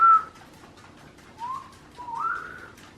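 A few clear whistled notes, one short high tone then two rising, sliding whistles, over a quiet background.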